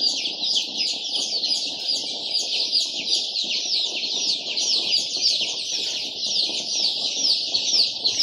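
Twelve-day-old Andijan black chicks peep in a constant high, shrill chorus of overlapping chirps, close and busy, with soft rustling and shuffling beneath the calls throughout.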